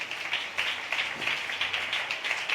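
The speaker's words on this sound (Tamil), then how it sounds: "அந்த பிள்ளைக்கு ஒரு கைத்தட்டு கொடுங்க பார்க்கலாம்" Audience applause for a child at a church convention service: steady clapping from a crowd, moderately loud, continuing evenly throughout with no voices over it.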